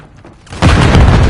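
A grenade explodes in Modern Warfare 3 multiplayer: a brief quiet lead-in gives way to a sudden, loud, close boom whose heavy low rumble sustains to the end.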